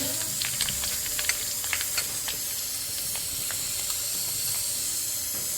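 Three or four green and red chillies sizzle in hot mustard oil, a steady hissing fry with faint scattered pops and crackles, heard close and alone.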